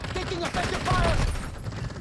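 Dense overlapping gunfire in a first-person shooter game, a loud, continuous burst of shots and impacts filling the whole moment, with a faint voice underneath.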